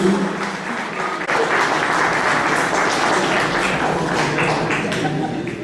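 Sustained applause from a large conference audience, dense and even throughout, with the clapping loud and unbroken from start to finish.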